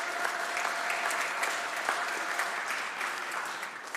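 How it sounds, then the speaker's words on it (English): Steady applause from a gallery crowd welcoming the Amazon Watch delegation at a Sacramento gathering, continuous and even throughout, moderately distant, with no talking over it. "We'll give you a little round of applause."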